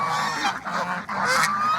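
Geese and ducks honk loudly and almost without pause at a farm flock that also holds guinea fowl, with overlapping calls close by.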